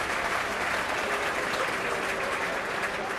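A football match crowd at a Conference game between Yeovil and Woking breaks into steady, dense applause after a strike on goal, loud and sustained throughout with no clear voices.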